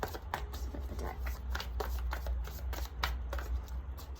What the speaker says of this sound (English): Just want to shuffle a bit more.